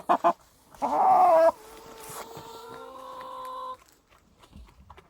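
Farm hens cluck and squawk loudly in short bursts, then give a longer harsh call, as old hens are let out among three-month-old young chickens.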